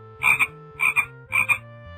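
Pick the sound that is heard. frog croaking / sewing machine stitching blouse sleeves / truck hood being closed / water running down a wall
frog croaking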